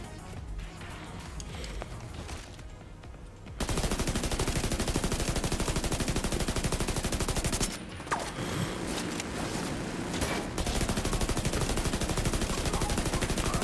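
Sustained rapid automatic gunfire from enemies in The Division 2, dense rattling bursts at close range, briefly pausing near the start and again in the middle before resuming loud and continuous.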